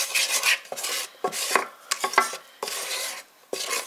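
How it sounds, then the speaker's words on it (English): Chocolate pudding mixture stirred in a pot to work out lumps, a steady scraping, rubbing swish of a spoon or whisk against the pan, repeated in uneven strokes with short pauses, close and fairly loud with no talking. "So let's see if I can get all this stirred up now."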